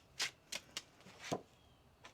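Tarot cards being shuffled by hand, giving a few soft, quiet riffling bursts with short pauses between them and no voices.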